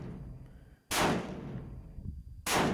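Two loud, sharp reports from a Ruger No. 1 single-shot rifle being test fired at an outdoor range, spaced about a second and a half apart, each trailing off in a long echo over steady background noise.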